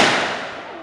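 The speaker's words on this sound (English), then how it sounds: "Here comes a gunshot." A single loud blast from a period firearm fired at a historical reenactment at Jamestown Settlement, heard as a sharp report whose noisy tail fades over under a second.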